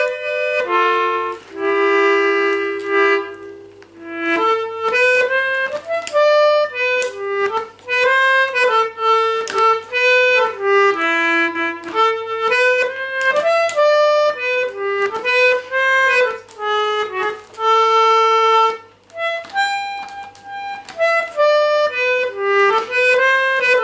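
An English concertina, a Lachenal, plays a lively tune alone, bright reedy chords and melody lines with short breaths between phrases, close and loud.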